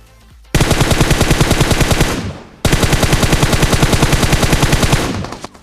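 Rapid automatic gunfire in PUBG Mobile on the Erangel map, loud and close, sounding in two sustained bursts with a short gap between them and no talk over it.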